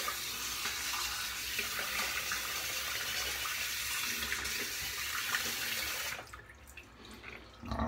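Tap water runs steadily into a sink to wet the face before a shave, a constant close splashing rush that cuts off near the end before a brief restart.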